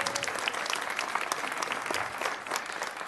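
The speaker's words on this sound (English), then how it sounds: "So give him a round of applause for that." Audience applause fills a hall at a city council education awards ceremony, steady dense clapping from a crowd throughout, close and fairly loud.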